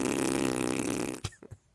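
A voice imitates a big baby fart: a long, loud, buzzing raspberry lasting over a second, ending in a couple of short sputtering bursts that fade out.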